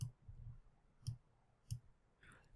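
Computer mouse clicks on an icon in an Excel Visual Basic setup: three sharp, quiet clicks spaced roughly evenly apart, close up and alone, with a faint rustle at the end.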